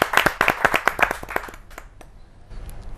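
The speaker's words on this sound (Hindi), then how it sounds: "आपकी जोरदार तालियां मिले विनय विनम्र जी।" An audience at a Hindi poetry gathering claps for an invited poet in a loud, close, rhythmic volley of about a dozen claps that thins out and stops, followed by quiet room tone.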